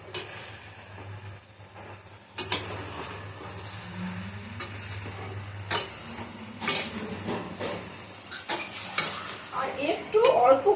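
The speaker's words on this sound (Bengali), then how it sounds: "এবার আদাটাকে দেওয়ার পর একটু নাড়াচাড়া করবো।" A spatula stirs Maggi noodles with grated ginger, beans and carrots in a pan, producing intermittent scraping and soft sizzling with louder scrapes near the end over a low background hum.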